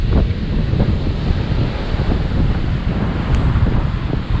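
Big ocean waves surge at Lamai Beach on Koh Samui, Thailand, as a storm approaches, a loud steady roar of surf with heavy wind buffeting the microphone.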